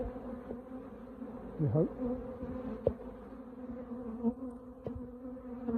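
Honeybees buzzing in a steady low drone during a beehive inspection, with occasional louder bees flying close by and a brief quiet voice.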